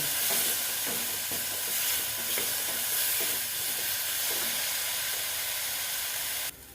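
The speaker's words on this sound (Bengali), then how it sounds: "দিয়ে এটাকে আমি ভালো মতন কষিয়ে নেব" Chillies and masala being sautéed in a pan for an egg and capsicum curry, a continuous sizzling hiss with soft scraping stir strokes, close and steady, cutting off abruptly at the end.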